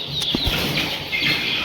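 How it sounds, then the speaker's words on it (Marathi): Active young poultry chicks flapping their wings and scuffling about nearby, a brief burst of wing flutters and soft movement sounds with faint chirps, no talking. "एकदम ॲक्टिव्ह पिल्ले आहेत"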